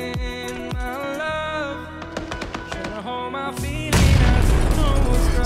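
Several booming grenade blasts go off in a PUBG match, with a dense, loud burst of explosions near the end over game music and sound effects.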